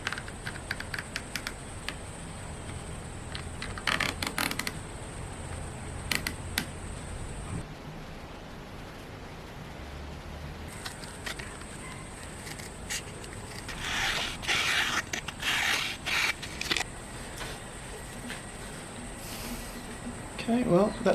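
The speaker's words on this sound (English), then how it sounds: "So I'm going to transfer that to a piece of cardboard and cut it out." A cardboard fret template for a first handmade guitar neck is cut out, producing scattered scratchy cutting and scraping bursts over a steady hiss, with a longer busy stretch near the end.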